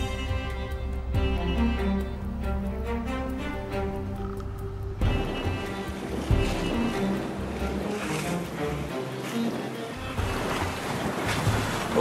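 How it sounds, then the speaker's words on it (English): A sailboat runs under sail on the open sea in about 20 knots of wind. Steady wind noise, rushing water and waves fill the clip, with hull splashes and creaks and no talking. "But first it was time to set sail once more."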